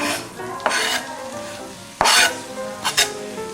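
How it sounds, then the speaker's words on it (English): Shallots sautéing in a pan of butter and a little olive oil, a steady close sizzle broken by a few louder stirring scrapes and bursts of frying. "I'll saute up these shallots"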